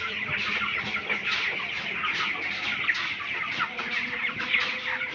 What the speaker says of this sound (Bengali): আরেকটা মুরগি রঙলা কোথায়